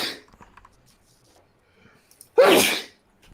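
One loud, sharp sneeze bursts out close by after a few quiet, faint rustles.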